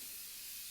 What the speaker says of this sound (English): I'm just gonna do a quick spray of the Avene thermal water because it feels so good after a hot day.